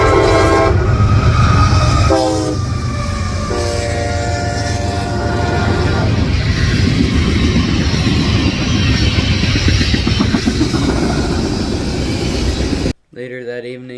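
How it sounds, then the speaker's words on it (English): CSX M367 freight train heading west with a Northern Pacific GP9 in tow, sounding loud horn blasts as it nears, then a heavy, close rumble of passing railcars that cuts off abruptly at the end. "I saw CSX M367 heading west with a Northern Pacific GP9 bound for a museum up in"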